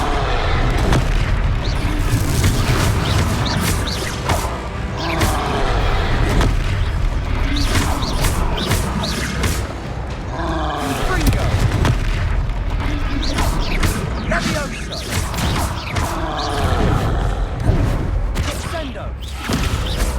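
Repeated Confringo spell explosions during combat in the Hogwarts Legacy video game: dense, loud booms and thuds in rapid succession with clashing impacts, continuing throughout, with voices at times.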